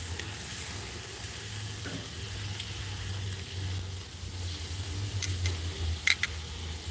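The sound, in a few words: chicken sizzling over grill flames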